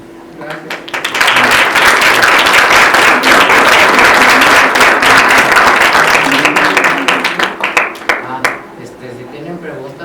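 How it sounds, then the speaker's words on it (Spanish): An audience at a business conference on starting and running a company breaks into loud, sustained applause after a speaker finishes, swelling quickly and then thinning into scattered claps, with brief talk at the start and end. "Le entrego un aplauso."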